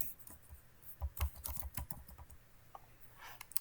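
Computer keyboard being typed on in a quiet room, a burst of quick uneven keystrokes that thins out into sparse taps, close and moderately soft with no talking.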